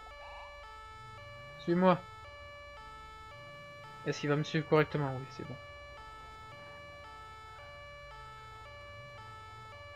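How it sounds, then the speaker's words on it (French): A police car siren in the video game GTA V cycles through steady electronic tones continuously at moderate loudness, while someone speaks briefly over it twice. "On va couper la sirène."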